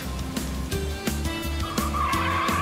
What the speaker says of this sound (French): Mes pneus glissent trop, non!